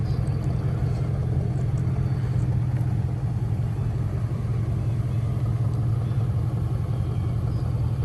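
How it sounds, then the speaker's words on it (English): Deep, steady exhaust rumble from a 2002 Lincoln LS V8 with a muffler-deleted exhaust, idling or cruising nearby with a constant low growl and no talking. "it kind of brings that V8 growl out just a little bit more"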